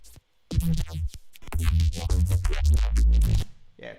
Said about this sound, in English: I was fiddling around on this track and I ended up making a bass that I'm pretty happy with